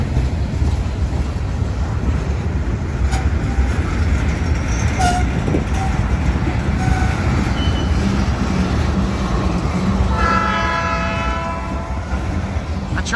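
A slow freight train rolls past in Butler, Pennsylvania, a steady, loud rumble of rail cars continuing throughout with brief squeals and a tonal horn-like sound near the end.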